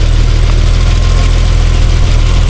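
Inline six-cylinder engine of a 1989 BMW 320i M-Technic (E30) running steadily with a loud, even low rumble and rapid pulsing, heard close under the open hood with no talk.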